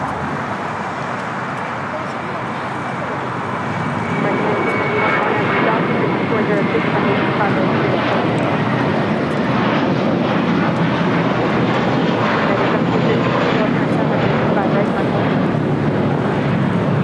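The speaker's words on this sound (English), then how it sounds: "This is JetBlue Airways 2985 taking off to Miami, Florida on an A321." A JetBlue Airways A321 jet roars down the runway on takeoff at LAX, a loud, steady engine rumble that swells after a few seconds and holds, with a voice talking over it.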